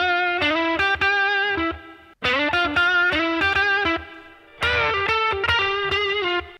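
A distorted electric guitar plays a short repeated lick in three phrases, notes bending and ringing out loud and clear, with brief gaps between.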